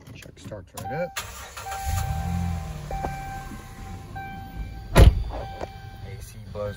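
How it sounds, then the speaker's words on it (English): A 2011 RAM 1500 truck starting up, with the starter cranking into an idling engine, a sharp thunk midway, and someone talking over the engine. "Truck starts right up."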